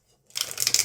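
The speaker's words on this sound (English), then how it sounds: "And it riffle shuffles nicely again, of course" A This Might Hurt tarot deck riffle shuffled close up: a short burst of crisp, rapid card flutter starting after a brief silence, ending in a soft ruffle.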